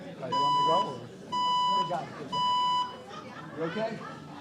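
A building fire alarm sounds three long, loud electronic beeps in a regular pattern, each separated by a short gap, with a voice announcement playing between and after them.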